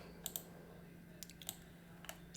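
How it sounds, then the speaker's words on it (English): A computer mouse gives a handful of faint, crisp clicks in small irregular clusters as a user clicks and drags, set against a quiet low hum. "Just clicking and dragging."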